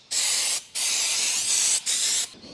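Aerosol brake cleaner spraying in three long hissing bursts with short pauses between, loud and close, no voices.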